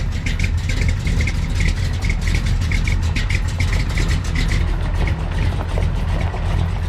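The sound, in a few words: pickup truck with old big block engine being driven out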